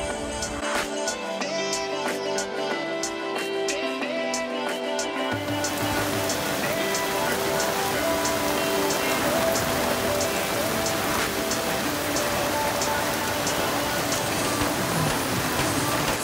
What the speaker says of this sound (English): I'm just here in the middle of a rainstorm. Lots of people are leaving. The rain is coming down hard.